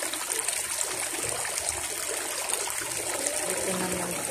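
Water runs along an outdoor irrigation channel in a continuous, even rushing trickle that holds steady and fairly close throughout.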